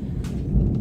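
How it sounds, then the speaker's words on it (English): Loud rolling thunder rumbles low and continuous from a storm outside a workshop where a farm bike wheel is being respoked, swelling briefly near the end of the short burst. "That thunder's really loud at the moment."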